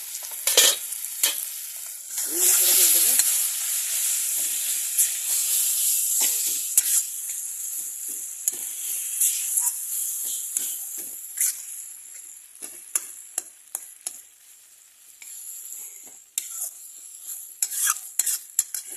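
Dahi aloo, potatoes in yogurt, cooks in an iron wok, with a continuous frying sizzle and repeated scraping stirs of a spatula against the metal, close and steady with no talk.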